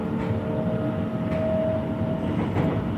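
Train carriage rolling over worn, uneven rails in need of renewal, a steady close rumble with a faint sustained whine and low rattling throughout.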